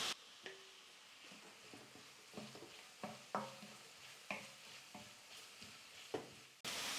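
Onions and curry leaves sauté in a pan for egg Maggi masala, a steady soft sizzle broken by repeated scraping stirs of a spoon against the pan, close and moderately quiet, with no voices.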